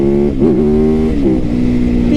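A 2024 Yamaha YZF-R9 motorcycle engine revs loudly and close up during a wheelie, a steady high-pitched drone that briefly rises and falls in pitch.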